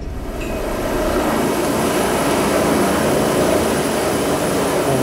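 Helicopter flying over the polar icebreaker Polarstern amid pack ice, a steady, loud, broadband engine and rotor roar that holds constant throughout, with no voices.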